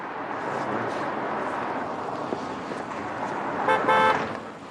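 A car horn hoots briefly near the end, a short double toot rising over steady outdoor street noise and traffic rumble.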